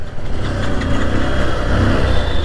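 A 2022 Bajaj CT 125X 125cc motorcycle engine runs steadily close by, a smooth continuous drone with slight fluctuations in revs and no voices.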